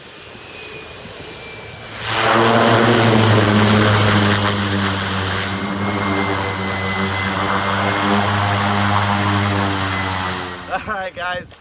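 A bush plane's propeller engine runs up to full power for a touch-and-go takeoff from deep sand in Alaska. A quieter idle swells into a loud, sustained droning roar with strong buzzing harmonics, then eases off at the very end.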